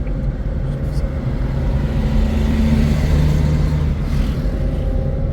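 A car driving on a road during a driving lesson, its engine rumbling steadily and fairly loud throughout as it shifts into third gear and the low drone holds continuous.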